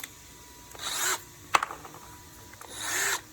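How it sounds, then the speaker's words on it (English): Power drill driving screws into a wall while mounting a timer box for a pool autofill: two whirring bursts about a second long with a sharp knock between them, close up, with no talking. "I'll try driving the screws into that."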